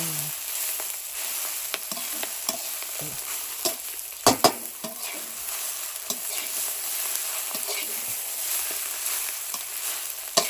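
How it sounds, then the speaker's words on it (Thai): Rice and Chinese kale tips stir-fry in a hot pan, a steady close sizzle broken by scrapes and knocks of the spatula, one sharper clatter partway through, and no one speaking. "ผัดข้าว ยอดคะนา"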